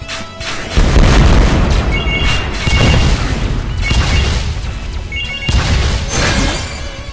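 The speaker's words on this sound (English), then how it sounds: "Frozen rocket." Frozen rocket detonating in the video game Win Wing: a heavy booming blast with shattering crackle, followed by further rumbling explosions and debris bursts that keep the level loud throughout.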